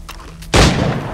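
A single loud gunshot from the game Assassin's Creed III bursts out abruptly after a moment of quieter game ambience.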